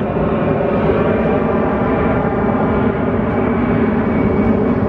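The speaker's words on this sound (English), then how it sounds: "plane" Airplane flying over a pier by the ocean, a loud, steady low roaring drone that holds evenly throughout without other sounds or talk.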